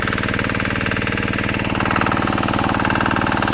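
A small engine running a drip irrigation pump on a farm hums with a steady, rapid mechanical pulse, loud and close, its tone rising slightly partway through.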